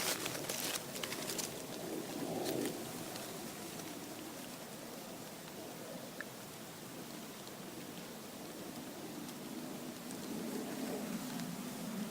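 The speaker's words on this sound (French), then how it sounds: "Entendez-vous les oiseaux?" Faint birds calling now and then in a quiet winter forest, with a soft steady hiss and a low cooing note.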